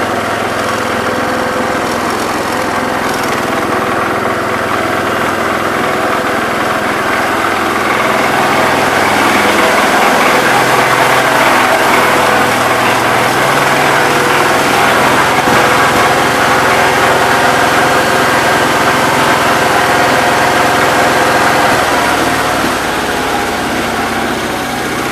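Case Ingersoll 222 garden tractor engine running steadily in the shop, a loud continuous small-engine drone with a constant pitch and vibration throughout, with no voices.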